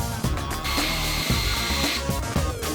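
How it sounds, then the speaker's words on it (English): A power drill drives long screws through stair framing during a kitchen renovation, giving loud whirring bursts with pitch shifts as the bit loads up and brief pauses between runs. "We're gonna go right downstairs with the drill, a bunch of long screws"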